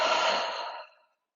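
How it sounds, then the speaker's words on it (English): A single deep cleansing breath at the close of a restorative yoga session: a long, soft, airy exhale, fairly close, that fades out over about a second into silence, with no talking. "We'll seal our practice with a shared cleansing breath."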